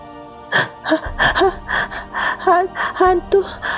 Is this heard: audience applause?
no